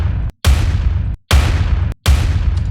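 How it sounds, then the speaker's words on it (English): Explosion sound effect for a metal song mix, with mid-range removed for a scooped tone: three heavy booming blasts separated by short silences, loud and close, with long decaying rumbles. "First, explosion sound."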